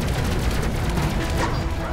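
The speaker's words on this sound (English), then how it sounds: "So many things going on at once, so many explosions." Space Crew space-combat video game explosions and crashes pile up in a dense, unbroken barrage, loud and layered throughout with no pauses.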